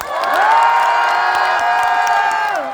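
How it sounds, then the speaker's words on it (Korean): The rear section of the crowd at a Daegu song festival roars on cue, a loud, sustained mass of shouting and cheering voices that swells and holds for a few seconds. "우리 뒤에 분들만 함성 한번 들어볼게요"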